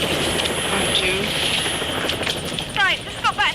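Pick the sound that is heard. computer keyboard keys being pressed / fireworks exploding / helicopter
helicopter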